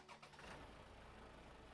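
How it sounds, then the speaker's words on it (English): A truck engine starting in SnowRunner, set in Wisconsin: a brief cranking catch that settles straight into a steady, low idle rumble, heard quietly and alone. "Start engine."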